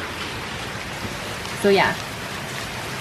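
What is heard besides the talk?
heavy rain on flooded roads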